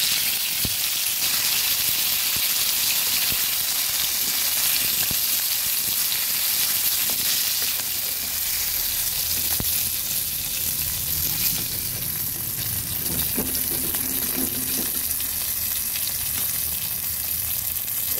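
Katla fish pieces frying in oil in a wok, producing a loud, dense, continuous sizzle that holds steady from start to finish.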